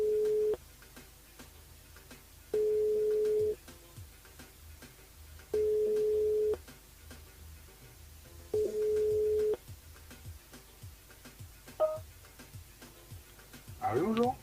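Ringback tone of a telephone call placed live on a radio show to a listener in La Possession: four evenly spaced one-second tone bursts with gaps between, followed by a click and a brief rustle of the line picking up.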